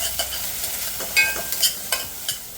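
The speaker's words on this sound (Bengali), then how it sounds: "নারকেলগুলোকে আমি হালকা নেড়ে ছেড়ে ভেজে নেব।" Grated coconut fries in hot ghee in a pan, with a soft sizzle under a few sharp scrapes and clinks as a spoon stirs it.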